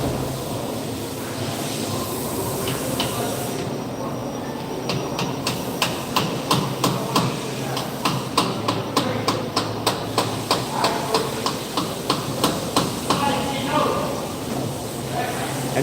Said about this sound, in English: I have to tap it a little to get the splines to go down over the teeth of the wheel bearing